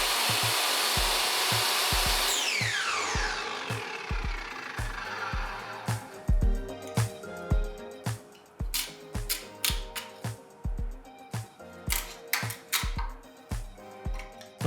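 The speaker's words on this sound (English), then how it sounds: "I had to do a little more work on the table saw" A table saw notches a wooden workbench leg: a loud spinning whine winds down, then a rapid series of sharp, rhythmic cutting thumps and knocks repeats as the blade chews through the wood.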